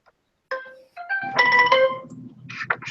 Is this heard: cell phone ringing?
yes